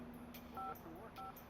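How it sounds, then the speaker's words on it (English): Two short bursts of cell phone dialing tones, paired DTMF beeps pressed in quick succession, heard alone and fairly faint against a steady background hum. "Campbell used David Gantt's cell phone to call him at Loomis and set up a meeting time"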